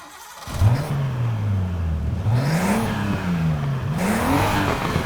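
A Nissan Skyline's RB26 engine in Need for Speed Heat revs up and down in rising and falling sweeps, steady and fairly loud, with no talking.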